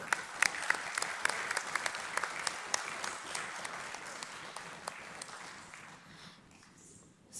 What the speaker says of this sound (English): Once again, a big round of applause for them.